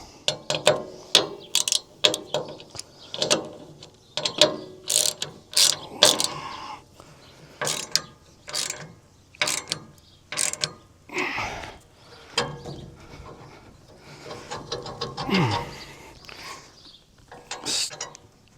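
A box wrench ratchets a nut onto a new spline on a New Holland H7220 tractor, with close, sharp bursts of clicking in irregular strokes, broken by brief pauses and handling noise.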